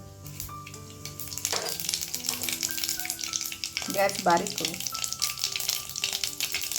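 Mustard seeds and cumin tempering in hot oil: a steady sizzle with a burst of crackling pops midway, while a person speaks briefly over it.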